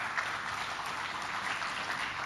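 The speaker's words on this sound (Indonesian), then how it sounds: "kasih tepuk tangan buat beliau" A seminar audience of leadership-program cadres gives a soft, steady patter of applause for a guest speaker, distant and even throughout.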